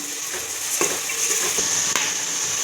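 Ground shallot paste hits hot oil in a pan for chicken gravy, giving a steady, close sizzle with a couple of sharp spoon scrapes against the pan, no voices.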